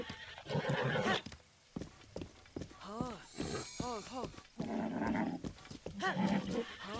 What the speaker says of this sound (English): it's less that this is Zelda's horse and more that this is a wild horse